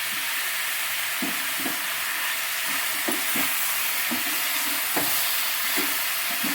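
Cashews and tomatoes fry in a small kadhai for butter chicken, a constant close sizzle broken by repeated soft scraping strokes as the spoon stirs the pan.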